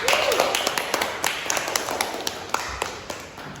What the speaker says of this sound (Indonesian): berikan tepuk tangan untuk Sarah Ulia.